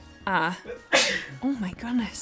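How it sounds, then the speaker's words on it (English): A man sneezes sharply once amid a few spoken words from people nearby, the burst loud and close at home near pet turkeys. "he's sneezing all over the turkeys"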